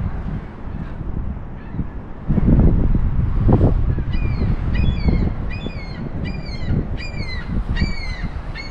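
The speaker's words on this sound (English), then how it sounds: "And the birds overhead." Birds call repeatedly overhead near Niagara Falls, a series of sharp honking, goose-like cries in a regular rhythm over outdoor ambience and a burst of rumbling noise.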